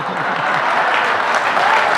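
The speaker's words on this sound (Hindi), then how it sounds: "आप भी ताली वाली बजाते रहें" Audience at a Hindi comic poetry gathering clapping steadily, a dense, even burst of applause that fills the short moment without a break.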